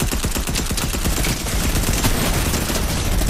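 A Fortnite minigun fires a dense, continuous stream of rapid shots, loud and close, without pause for the whole stretch.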